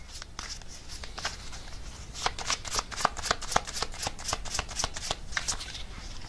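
Tarot cards riffled and flicked by hand, a quick irregular burst of crisp papery snaps that grows denser and louder in the middle, close up with no voices.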